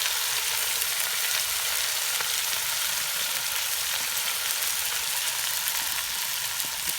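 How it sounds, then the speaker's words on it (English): Meat for Brunswick stew sizzles loudly and steadily in a pan, a close, dense hiss that holds evenly from start to finish with no voices. "to get that good sizzle we talked about. Just listen to that sound."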